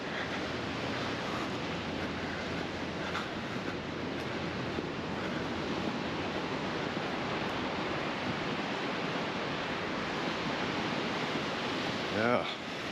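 Morning summer surf breaks at Bikini Beach in Gordons Bay, a steady broad wash of waves with wind across the microphone, fairly faint and continuous.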